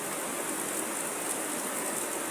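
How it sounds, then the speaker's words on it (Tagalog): Heavy rain pours down in a dense, even hiss that stays loud and close from start to finish with no other sounds. "Ito na, ang lakas ng ulan."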